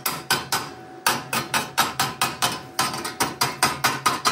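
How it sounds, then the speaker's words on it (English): A hammer raps on plasma-cut steel to knock dross loose from a CNC plasma table's water table. The sharp metallic blows come close and loud in a fast, steady rhythm, with a short pause partway through. "I may rename these my dross hammers."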